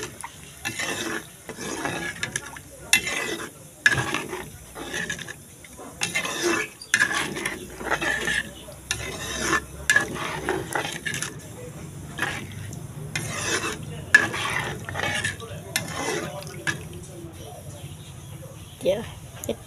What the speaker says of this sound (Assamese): এতিয়া অকণমান লৰাই দিছোঁ।